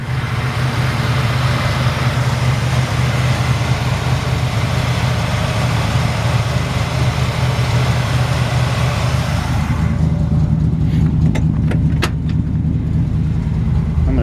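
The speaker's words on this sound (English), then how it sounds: "Let you hear this engine real quick." A 1957 Chevrolet 3100 pickup truck engine idles steadily and close, a continuous low rumble with even firing throughout, its tone shifting slightly near the end as a few faint clicks and ticks sound over it.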